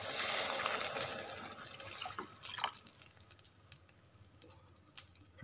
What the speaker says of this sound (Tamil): 1 கப்பு பால் விட்டுட்டு